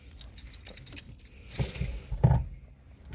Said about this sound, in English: So we'll get the key fob